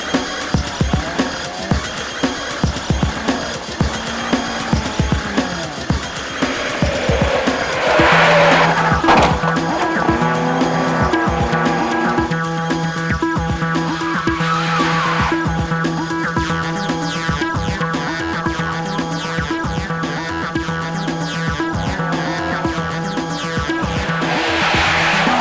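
Rally car cutting from sticky tarmac onto slippery grass, loud engine revving and racing past with tyre squeal and skidding, then a sustained high engine drone under music.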